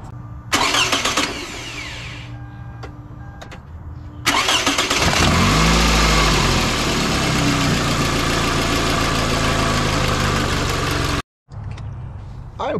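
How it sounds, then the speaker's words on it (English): A 2007–2009 Toyota Corolla engine with a cracked exhaust manifold cranks and starts, then idles loudly with a rough ticking, puffing rhythm close by, before cutting out abruptly near the end. "I'm quite certain that that exhaust manifold is cracked"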